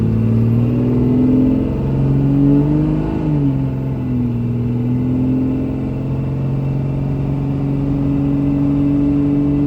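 A Dodge with an automatic transmission accelerates as turbo boost builds, its engine a loud, steady drone that climbs in pitch early on and then holds a sustained, even note.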